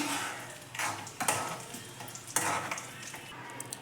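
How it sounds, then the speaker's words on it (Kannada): Cashews and raisins fry in a mix of ghee and oil with a soft close sizzle, broken by a few sharp scrapes and clinks of a utensil against the pan, and no speech. "ತುಪ್ಪ ಮತ್ತು ಎಣ್ಣೆ ಕಾದಿದ ಮೇಲೆ ಗೋಡಂಬಿ ಹಾಕ್ಕೋತಾ ಇದ್ದೀನಿ ಸ್ವಲ್ಪ ಫ್ರೈ ಮಾಡ್ಕೋಬೇಕು"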